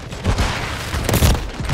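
Rapid gunfire bursts from Modern Warfare 3 gameplay, loud and dense with booming, rolling shots in an unbroken clatter and no talking.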